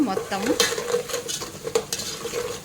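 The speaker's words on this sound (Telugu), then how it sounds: "మొత్తం ఇలా అంతా ఫ్రై చేసుకోవాలి" Ingredients for a salted fish and black-eyed pea rice dish stir-fried in a pan, with repeated close scraping and clinking of a spatula over a steady sizzle.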